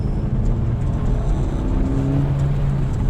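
A 2023 Suzuki Dzire engine rumbles steadily up close after a downshift, its low drone rising in pitch as it revs, with a continuous whir throughout.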